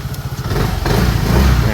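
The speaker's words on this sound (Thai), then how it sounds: "เบิ้ลเครื่องนะครับ" A yellow Vespa GTS Super 150 i-GET scooter engine is blipped, a close, loud rumbling rev that rises mid-clip, with no talk over it.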